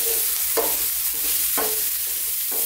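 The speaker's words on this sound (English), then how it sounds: "Keep stirring." Vegetables being stirred in red flavoured oil with a bay leaf, a loud continuous frying hiss with rhythmic scraping strokes of a utensil about once a second, close up and alone without speech.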